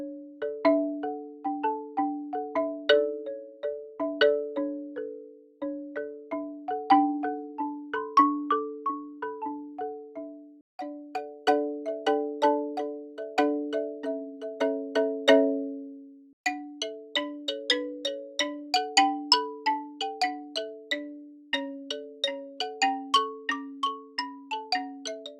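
Soniccouture xylophone plugin playing rapid tremolo rolls with a sequence of different mallets on a wide mic setting, shimmering bright bars in rising and falling melodic phrases, several separate passages, no voices.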